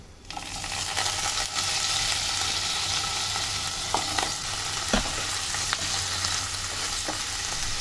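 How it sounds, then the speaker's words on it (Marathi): Paneer pieces fry in a pan with a dense, steady sizzle that starts abruptly and holds, marked by occasional sharp spatula taps and scrapes, close and with no speech. "पनीर जे मी पीसेस करून घेतलेत पनीरचे, ते आपल्याला थोडंसं फ्राय करून घ्यायचे आहे"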